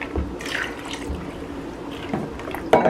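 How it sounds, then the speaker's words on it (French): Water being added to a pot of homemade bouillon, a steady close pouring and splashing that runs throughout and swells louder near the end, with no talking. "j'ajoute de l'eau au niveau que je veux"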